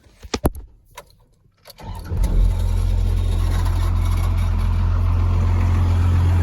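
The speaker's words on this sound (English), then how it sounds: "If anybody knows what that grinding noise is, I'm pretty sure my flywheel is dragging" A few sharp clicks and rattles, then a first-generation 12-valve Cummins truck engine cranks and catches into a loud, steady low rumble, with a dragging flywheel's rough grinding edge running throughout.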